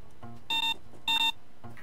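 Electronic beeping from a proximity mine in the Payday 2 video game: two clear double-pulsed tonal beeps, evenly spaced and fairly loud, with fainter clicks between them and no talk.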